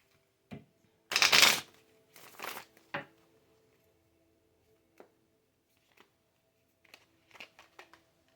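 Cards are riffled in a few quick bursts, followed by scattered soft taps and light clicks as the deck is squared up, close and quiet.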